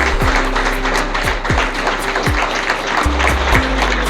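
Audience clapping at an annual safety fortnight event, a steady patter of many hands over a low hum, punctuated by repeated sharp thumping hits.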